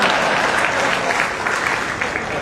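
An audience claps steadily and fairly loudly throughout a Hindi-language speech at a community gathering, a dense continuous patter of many hands with no voices on top.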